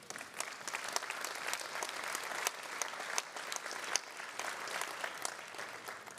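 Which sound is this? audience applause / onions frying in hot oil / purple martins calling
audience applause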